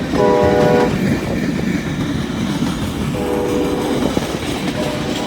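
A train passes on a windy day, a loud steady rumble filling the whole stretch, with two short bursts of horn tones near the start and again near the middle.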